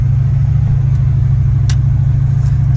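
A 1938 Ford Coupe with a fuel-injected 5.0 engine cruising smoothly on a cold, snowy road, its low engine drone steady and continuous with faint brief clicks above it.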